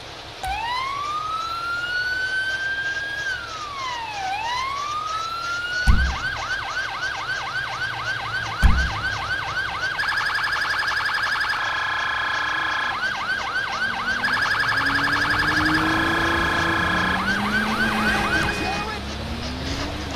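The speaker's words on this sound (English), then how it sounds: "Those are the tones. The last one is a intersection clearing siren" Police siren tones from the FiveM roleplay mod of GTA V cycle loudly and continuously: a swooping wail, a rapid yelp, pulsing hi-lo tones and a final intersection-clearing pattern, with two brief low thumps partway through.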